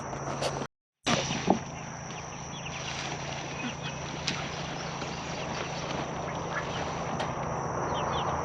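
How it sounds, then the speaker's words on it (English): A dying duck on a farm at night gives a few short, scattered quacks at moderate distance over a steady hum and constant background noise, with a brief dropout near the start. "I got a duck back there dying."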